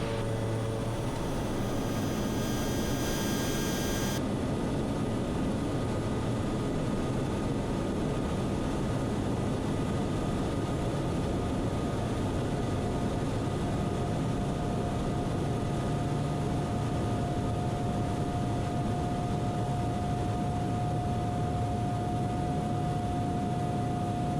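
A loaded light airplane flying hurricane relief takes off from the runway, its engine a loud, steady droning roar filling the whole clip, with a faint steady whine running beneath it.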